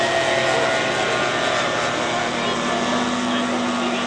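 A model Fokker D6 biplane flies at an air show, trailing smoke. Its engine gives a steady, continuous drone with a faint tonal hum, heard at a distance throughout.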